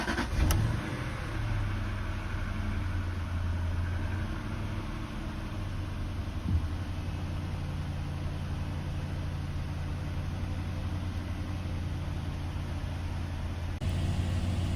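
A Jaguar XJ VDP with a misfire cranks and catches near the start, then settles into a steady, rough, low idle that drones on close by for the rest of the stretch, with a brief blip partway through.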